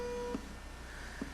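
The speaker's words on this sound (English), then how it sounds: "It's a promising beep, is it?" Two short electronic beeps about a second apart, faint over a steady background hum, with no one speaking.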